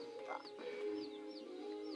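A chicken clucks softly at a distance, with faint bird chirps over quiet background ambience.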